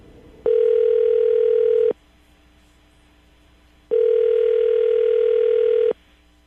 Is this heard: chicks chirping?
no